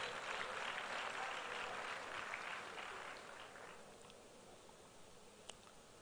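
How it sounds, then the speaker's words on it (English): Audience applause at a First Lady's women's agriculture support programme launch, a dense patter of clapping that gradually fades quieter toward the end, heard at a distance. "Please join me in giving them a round of applause."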